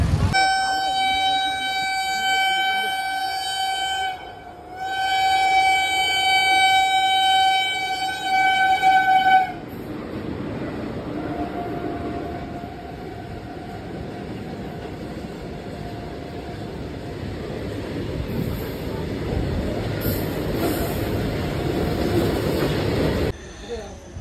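A train passing through an Indian railway station, opening with a long loud horn blast, then a sustained rumbling roar of wagons rolling by close up; someone talks over it briefly.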